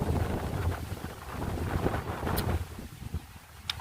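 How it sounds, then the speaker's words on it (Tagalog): Strong, typhoon-like wind sweeps over rice fields in the Nueva Ecija countryside, buffeting the microphone with a continuous, roaring rush that swells and gusts unevenly, with no voices heard. "Lakas ng hangin na yan guys. Talagang bagyong pindol."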